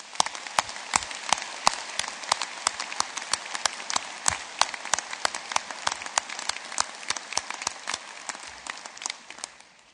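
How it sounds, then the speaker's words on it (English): Sparse, restrained applause from a graduation ceremony audience in Belfast, a steady patter of individual claps close and distinct, thinning and fading toward the end, with no voices over it. "that was a very restrained round of applause"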